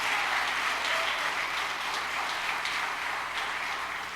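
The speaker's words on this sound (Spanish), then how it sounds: "Dele fuerte palmas al Señor," A church congregation claps loudly and steadily for the Lord during a Spanish-language sermon, a dense, continuous wash of many hands that holds strong throughout with no one talking over it.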